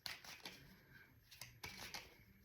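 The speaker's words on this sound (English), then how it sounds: "Let's do some shuffling." A tarot card deck being shuffled: quick riffling bursts and soft flicks of cards in several uneven pulses, close and moderately quiet, with no voices.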